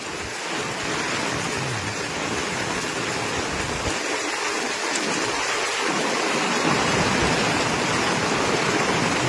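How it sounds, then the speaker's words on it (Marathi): Heavy rain pours down in a steady, dense roar that holds loud and unbroken throughout, with no voices. "जोरदार लागला पाऊस, लय बेकार पाऊस"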